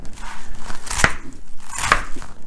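A knife makes two sharp, distinct chops through cabbage on a cutting board, spaced about a second apart, close and clear with no talking.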